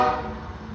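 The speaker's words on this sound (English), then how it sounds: "here's train 655 running long hood forward with a mystery locomotive with temporary ditch lights" CPKC freight train 655 running long hood forward in winter in Ottumwa, Iowa: a brief, steady low rumble with a tonal horn-like hum over it, close and fairly loud, with no talk.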